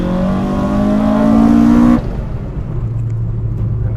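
Toyota 4AGE engine with intake trumpets revving hard, a loud rising howl that climbs for two seconds and then cuts off abruptly, dropping to a lower rumble.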